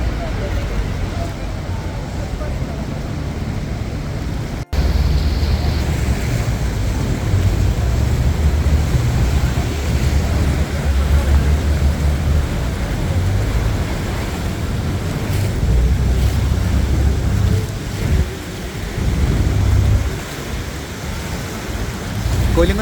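Steady, dense roar of the Rhine Falls in Switzerland, Europe's largest waterfall, heard close by as a continuous broadband rush with a brief dropout early on, while voices speak over it.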